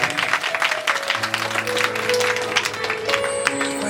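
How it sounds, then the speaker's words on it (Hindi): Audience clapping at a Shrimad Bhagavat Katha religious discourse: a steady, dense wash of applause lasting several seconds, with sustained musical tones running underneath. "एक बार जोरदार ताली हमारे पास"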